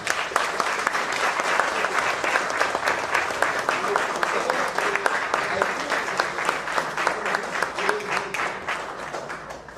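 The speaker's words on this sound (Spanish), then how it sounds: "Un fuerte aplauso, por favor" Audience at a talk applauding a writer being introduced, steady, full clapping from a sizeable crowd holding at an even level for about ten seconds.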